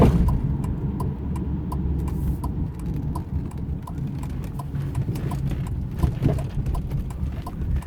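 A 1997 Lincoln Mark VIII LSC turn signal ticks in a steady, regular rhythm inside the cabin at night, sharp, evenly spaced clicks over the low rumble of the car driving.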